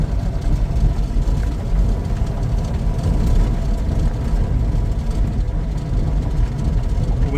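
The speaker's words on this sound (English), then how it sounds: "this transmission makes so much noise" A 1965 Plymouth Valiant, its three-speed converted to a four-speed, rumbles along a road during a test drive with a rough, continuous low drone and rattle from a noisy transmission, heard from inside the car.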